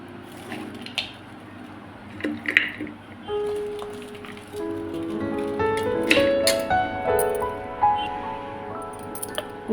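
Washed, turmeric-rubbed mutton bones clink and squish into a pressure cooker for bone soup, with sharp knocks of bone on metal and wet drips, close and fairly quiet.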